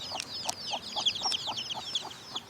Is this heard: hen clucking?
yes